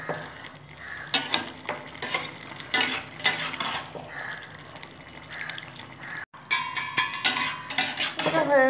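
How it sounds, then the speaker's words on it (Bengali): A Bengali vegetarian spinach curry (palong shak) is stirred in a pan with a utensil, giving repeated scraping and clinking strokes over a soft sizzle, steady and close, with one brief pause before the stirring resumes. "আবার একটু নেড়ে নেবো।"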